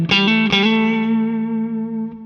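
A Lone Star amp plugin set at the edge of breakup rings out a distorted electric guitar chord, struck a few times and then left to sustain with a gentle decay and a touch of chorus and reverb.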